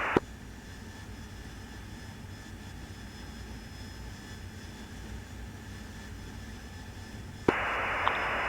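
Steady roar of a Harrier jet in flight heard from inside the cockpit, a constant engine drone with brief radio static clicks near the start and end.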